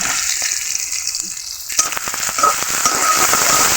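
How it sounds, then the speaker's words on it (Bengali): Chopped onion, garlic and green chili fry in hot oil as a spatula stirs them, a quiet sizzle that swells into a loud, crackling fry with scraping stirs about halfway through. "খুন্নির সাহায্যে এভাবে নেড়ে চেড়ে পেঁয়াজ কুচি রসুন কুচি ও কাঁচা মরিচকে ভেজে নিতে হবে"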